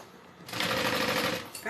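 A sewing machine stitches a backpack, beginning after a brief quiet moment and running as a fast, steady motor whir for about a second before stopping.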